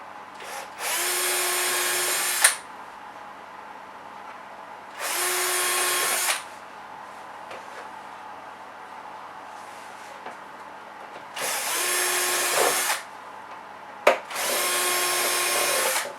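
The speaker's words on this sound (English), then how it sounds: "we can drill the holes on this side just for a couple of Phillips screws." A power drill bores holes for Phillips screws in cockpit simulator parts, sounding as four separate whirring bursts of a couple of seconds each, spaced by quiet pauses with light handling noise.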